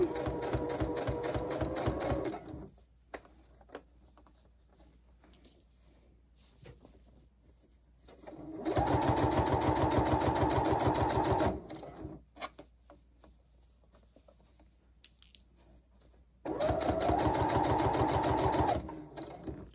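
Sewing machine stitching a rectangle of fabric for a book cover, running in three loud steady bursts with quiet pauses between them as the fabric is adjusted, no talk.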